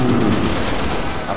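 Gunfire from a Black Ops zombies video game, a dense burst of loud shots running together at close range and fading slightly toward the end, with faint voices underneath.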